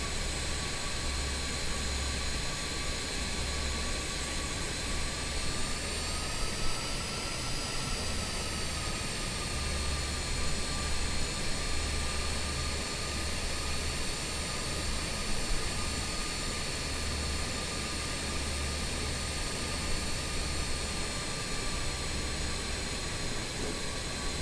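BAe 146 jet engines whine in a steady, loud, continuous drone while the airliner taxis in Microsoft Flight Simulator, a high-pitched tone rising slightly midway over a low rumble.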